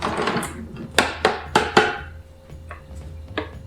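A quick stir of saffron-steeped mead in a vessel, with four sharp clinking scrapes in a quick even rhythm, followed by a few fainter knocks, close and moderately loud.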